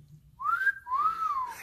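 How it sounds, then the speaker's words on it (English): A person gives a wolf whistle, a rising note followed by a longer falling note, clear and close in a quiet room with no talk. "that's a real wolf whistle"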